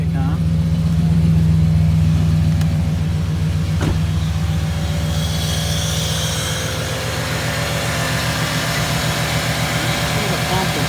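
A 1995 Impala SS V8 idles steadily and close by with its A/C pump engaged, a low rumbling hum with faint hiss rising in the upper range partway through.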